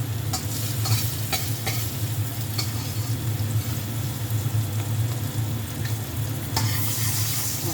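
An egg frying in a non-stick pan, a close, continuous sizzle and crackle with a low steady hum beneath and a few sharper pops, no talking.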